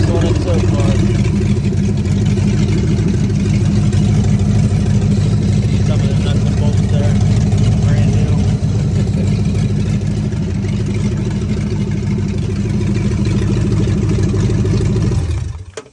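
A 1988 Ford Mustang GT V8 runs steadily close by, a loud, rumbling engine drone that holds constant before cutting off at the end, with voices faintly under it.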